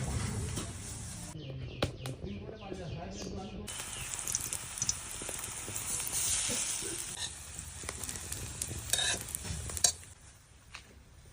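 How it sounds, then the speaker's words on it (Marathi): Breadfruit slices fry in oil on a hot griddle pan, giving a steady soft sizzle broken by a few stirring and utensil clinks, with faint background sounds. "तवा गरम झाला की तेलावरती ते परतायचं"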